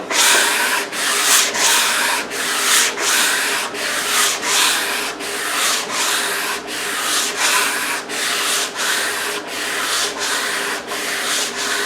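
Hand sanding of a wooden kitchen table with fine-grit sandpaper during refinishing, heard as steady, close back-and-forth rasping strokes in a regular rhythm of about two per second, alone with no talking.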